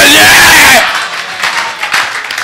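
A church congregation breaks into loud applause and cheering, a dense wash of clapping and voices that rises sharply, then thins into scattered claps and calls.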